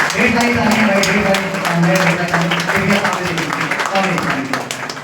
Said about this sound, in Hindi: ढेर सारी तालियां भाई इनके लिए